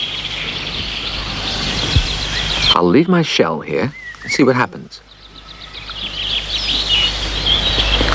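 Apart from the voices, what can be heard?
birds chirping in a wood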